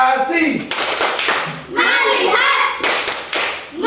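Schoolchildren in a classroom clap together in short rhythmic bursts for the 'tepuk konsentrasi' clap chant. Their loud chanted voices run between and over the clapping patterns, close by.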